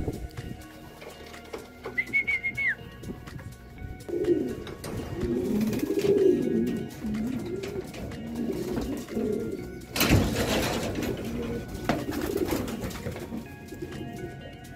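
Racing pigeons in a loft holding several hens burst into repeated rolling coos after a quieter start with a brief high whistle, the cooing staying near and steady, with a sharp rustle near the end.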